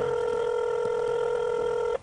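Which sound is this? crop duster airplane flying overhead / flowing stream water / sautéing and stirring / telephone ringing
telephone ringing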